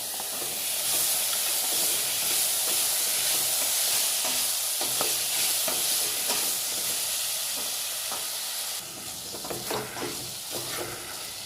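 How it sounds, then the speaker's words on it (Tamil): Tomatoes sauté with ginger garlic paste for tomato rice, a loud, steady hissing sizzle close by, with clattering stirs and scrapes that grow busier toward the end. "தக்காளி கொஞ்சம் வதங்குற வரைக்கும் வதக்கணும்."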